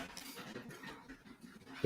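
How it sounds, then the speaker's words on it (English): Dogs fighting at an animal sanctuary come through as faint, continuous panting and scuffling breaths, low in level, ending with a brief louder thump. "Sorry, the dogs are fighting."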